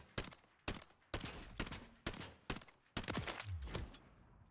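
FR Avancer sniper rifle fires seven sharp, loud shots in a video game, spaced about half a second apart, each crack trailing a short echo.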